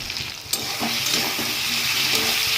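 Ginger, green chilli paste, cumin powder, Kashmiri chilli powder and turmeric fry hard in a pan, giving a loud, steady sizzle close up, with a few soft scraping stirs and no talking.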